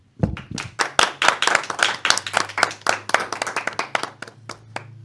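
A studio audience claps to welcome a guest onto a Spanish-language talk show, a steady burst of sharp, close hand claps lasting several seconds before fading near the end.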